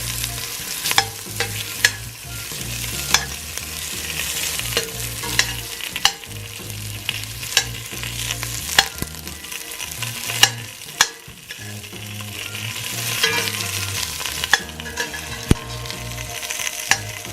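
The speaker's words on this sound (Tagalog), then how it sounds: "Ngayon po ay isusunod naman natin sa paggisa itong sibuyas na" Purple onions sauté in a pan for chicken soup, sizzling loudly and steadily with frequent crackles and scraping stirs from a utensil, and no talk over the long stretch of frying.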